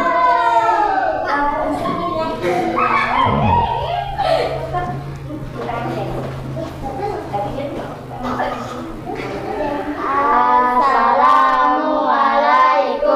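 A group of people claps for the third student group after its presentation in a classroom teacher-performance assessment, with chatter and young voices mixed through the steady applause.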